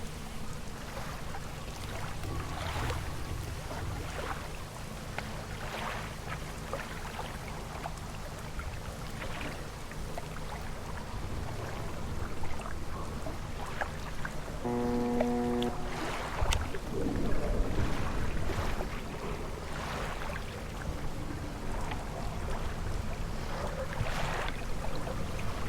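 A damaged boat engine in the fishing game Dredge drones low and steady amid wind and lapping water, with a brief tonal chime partway through and no talk.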